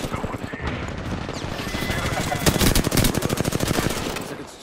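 Rapid automatic gunfire from a first-person shooter video game rattles in long, dense bursts, close and loud, building toward the middle with a steady rhythm of shots.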